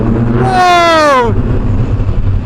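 A loud motorcycle exhaust blast rises to a high whining roar, then drops away within a second, leaving a low rumble and background noise.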